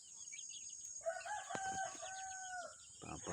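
A large rooster crows once in a backyard poultry setup, a drawn-out cock-a-doodle-doo rising and holding steady over a constant high insect-like hiss, with a faint shuffle afterward.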